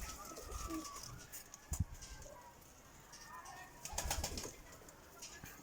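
Adana pigeon chicks beg their father for food with soft, breathy cooing and brief squeaky calls, faint and intermittent, with some low voices and rustling nearby.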